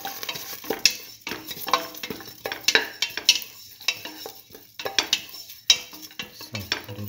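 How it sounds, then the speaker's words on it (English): Green chili and a few curry leaves sauté in a pan, making a lively sizzle broken by repeated clanks and scrapes of a spatula against the metal. No one speaks. "Saute thoroughly."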